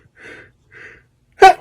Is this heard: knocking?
no